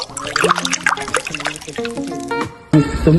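Water trickles and pours close by in a steady stream for a few seconds, with a gurgling, splashing tone.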